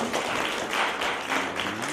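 Audience clapping in a hall at an evening meeting, a dense, steady patter of many hands lasting a couple of seconds.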